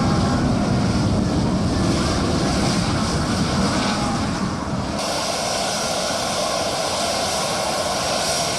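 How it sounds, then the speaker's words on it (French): A Mali Republic–marked airplane touching down on a runway, its engines producing a steady, loud broadband roar that continues throughout, with a slight change in tone partway through and no voices. "un avion estampillé République du Mali caresse la piste"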